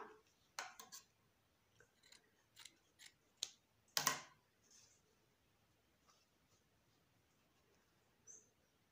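Scissors snip through pieces of tricoline cotton fabric for a flower, a series of crisp close cuts spaced irregularly, one louder slice near the middle, with no talking.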